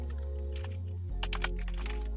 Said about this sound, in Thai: เดี๋ยวลองพิมพ์ใน คีย์บอร์ดดูนะครับ